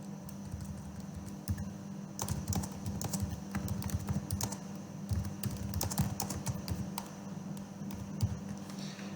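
Rapid keystrokes patter on a computer keyboard as a paragraph is typed into a document, a dense, uneven run of close clicks over a low background hum, with no talk.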